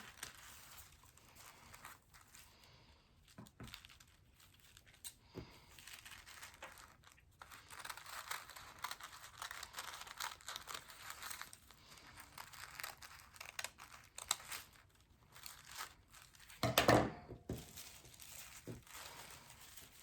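Scissors snip and crinkle through folded tissue paper while cutting small shapes for papel picado, a soft close rustle with one louder crunching cut near the end, no talking.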